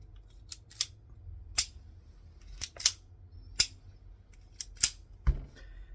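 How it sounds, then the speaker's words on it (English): Sharp metallic clicks and snaps from a Browning FN Baby .25 ACP pistol as a magazine is seated and the action worked, about ten crisp separate hits spaced irregularly, close and isolated with no voice. "Put your magazine in, and you can test it real fast."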